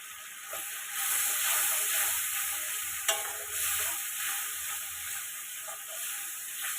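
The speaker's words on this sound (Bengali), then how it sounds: "এগুলো সামান্য ভাজা ভাজা করে নেব আমি ভাজা ভাজা করে নিয়েছি এবার গুঁড়ো মশলাটা দিয়ে দেবো" Ingredients fry in hot oil as ground spice powder is added and stirred in, giving a steady, close sizzle with continuous stirring scrapes and one brief sharp clatter, with no talk.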